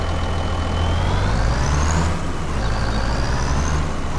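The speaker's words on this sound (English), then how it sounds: "Let me pull the truck up so we get out of the way." A heavy truck engine in Farming Simulator 25 rumbles steadily and loudly, with a faint rising whine on top, no voices present.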